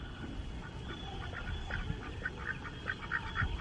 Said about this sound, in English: This is an interesting duck or goose down here in the grass